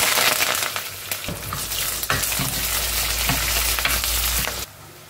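Curry leaves hit hot oil with a loud, crackling sizzle that flares after a brief scrape. Spattering carries on steadily before cutting off abruptly near the end.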